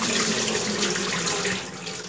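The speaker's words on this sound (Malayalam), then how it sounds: "നന്നായിട്ട് ഒന്നും കൂടെ 3-4 വെള്ളത്തിൽ കഴുകിയെടുക്കണം." Chopped tapioca is washed in water for puzhukku, a steady close sloshing and splashing of water in a vessel that eases off slightly toward the end, with no voices.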